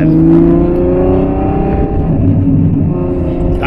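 Ferrari F12 engine revving in neutral while parked, a loud, close, sustained roar with shifting pitch; backfire pops are not clearly distinct within the steady drone.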